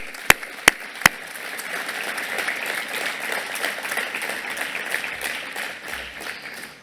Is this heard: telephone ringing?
no